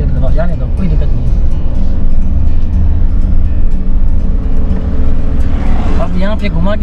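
A Suzuki Jimny in 4H four-wheel drive accelerates across desert sand, its engine a steady loud rumble close by, while people talk over it throughout.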